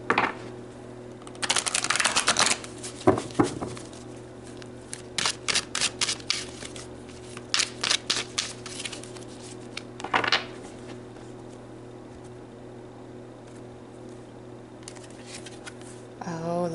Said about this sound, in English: let's pull some more cards and see what that is about